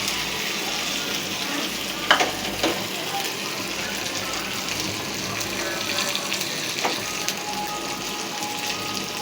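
Onion sizzling and frying in butter for moong daal makhni, a steady loud crackle throughout with a few clinks of stirring, no talking.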